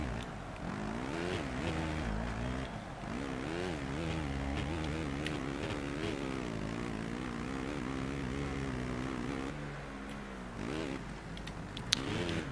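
A motocross bike in the MXGP video game goes through a controlled skid, its engine whining continuously and loudly, rising and falling in pitch throughout.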